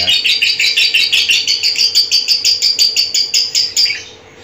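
A caged male songbird kept in a colony of males sings a fast, steady series of about fourteen bright, piercing chirps, close and loud, fading out at the end.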